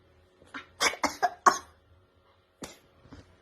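A close burst of four quick coughs, a pause, then two more softer coughs in a quiet room.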